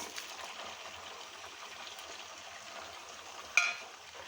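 Melted butter simmers gently in a pan on a low flame while being cooked down into ghee, giving a faint, steady crackling sizzle with one brief louder spatter near the end.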